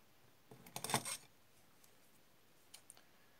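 Small scissors snip through folded felt while making a Crash Bandicoot mask, a short close burst of crisp cutting clicks followed later by a couple of faint snips.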